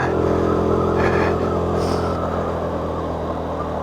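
A KTM 390 Duke motorcycle engine on a ride, a loud sustained drone with a brief rise in pitch like a rev, heard close and steady throughout.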